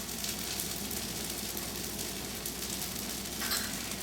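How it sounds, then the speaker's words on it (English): Butter sizzles gently on a dosa in a hot pan, a soft, steady crackle that carries on evenly throughout without any talk. "And now I'm adding another little bit of butter on it, just for swad, just for taste,"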